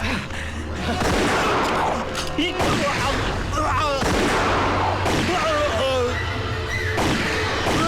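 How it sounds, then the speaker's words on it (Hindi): Several sharp gunshots ring out in quick bursts amid shouting voices and chaotic, loud background noise in a Bollywood film scene. "ऑफिसर सलमा खान को गोली चलाने का पूरा हक है।"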